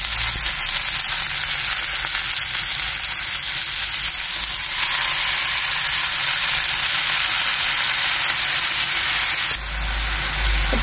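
Leafy greens added to a hot pan with a little potato, sizzling loudly and continuously as a bright, dense hiss that swells slightly midway and shifts again near the end.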